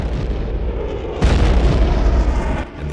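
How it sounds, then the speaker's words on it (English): A missile fired at a retired fighter jet being used as a target drone, heard as a sudden loud booming burst that rises over a steady roar and sustains for over a second before tapering off, with no talk. "A missile is fired."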